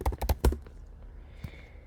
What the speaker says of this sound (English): So this keyboard is still good for typing, so I can type YouTube fast.